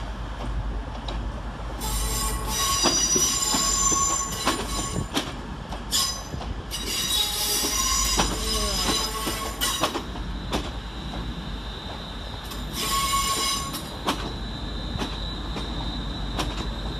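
A West Midlands Railway Class 350 electric train running in off Walsall to terminate at Wolverhampton station, with wheels squealing in repeated high bursts over a steady rumble and clatter, heard close on the platform.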